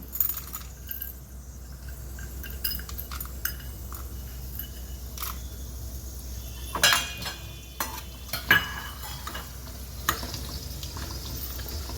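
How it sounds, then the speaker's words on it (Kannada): Chana dal frying in a pan while ridge gourd huli tovve is cooked, with a steady sizzle throughout. Scraping and clinking stirring strokes cut in, loudest around the middle and latter part. "ಇದರ ಒಳಗಡೆ ನಾನು ಕಡಲೆಬೇಳೆ ಹಾಕ್ತಾ ಇದ್ದೀನಿ"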